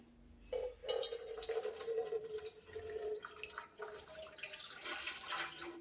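Milk poured from a container for making coffee in a home kitchen, a steady liquid pour with dripping splashes lasting several seconds, fairly close and moderately loud, with no talk over it.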